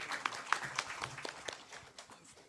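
Audience at a Korean education policy forum applauding to welcome the discussion moderator: brief, faint, scattered clapping with a few distinct claps.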